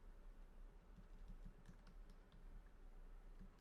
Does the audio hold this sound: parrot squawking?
no